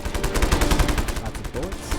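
Rapid automatic gunfire rattles in Just Cause 3 as a large enemy base is attacked, with a dense, loud burst of evenly spaced shots continuing without a break.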